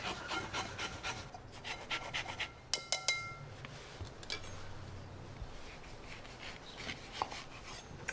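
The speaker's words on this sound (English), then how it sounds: "You always want to zest the orange before you juice it" An orange is rubbed against a grater for zest in a home kitchen, giving soft repeated scraping strokes, close and fairly quiet, with a few brief clinks partway through.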